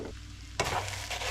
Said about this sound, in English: toast up the pasta